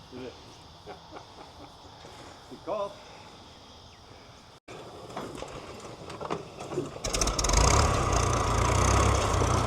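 A Farmall H row crop tractor, prone to flooding on the choke, sits quiet under voices and outdoor insect hum before its engine fires and settles into a loud, steady running rumble close by.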